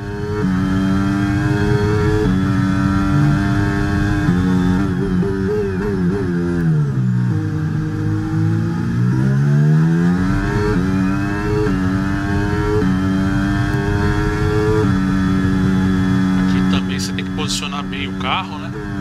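An F1 23 Formula One car laps Shanghai International Circuit in the video game, its high-revving engine droning loudly and continuously through gear changes, dipping and rising as it lifts and accelerates through a long-radius corner.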